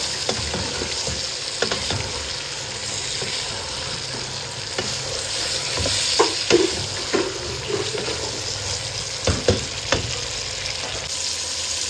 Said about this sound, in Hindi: तो मैंने चिकन को और चनों को अच्छा भूना ताकि अच्छी सी इसकी भुनाई हो जाए